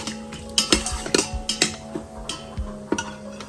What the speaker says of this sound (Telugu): మిక్స్ చేసుకుందాము